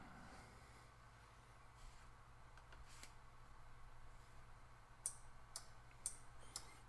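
A slow relay driven by an Arduino clicks faintly, a few sharp isolated ticks spaced about a second apart over a low steady hum, with no voices.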